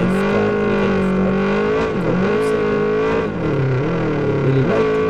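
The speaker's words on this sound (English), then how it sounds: "I really like to drift like this." Car drifting in the mobile game Drift Max Pro: a loud, close engine revs high and holds, dipping and rising in pitch as the car slides, with a brief tire squeal, no talk.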